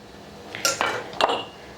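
Glass canning jars being filled with mushrooms for pressure canning, with a few bright close clinks and knocks of glass and utensils against a quiet room.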